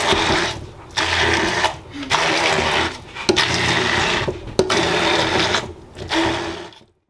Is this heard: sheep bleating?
no